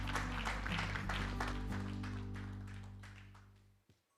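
An audience claps at the opening ceremony of a youth forum in Jeju, a dense wash of applause that gradually fades and stops near the end.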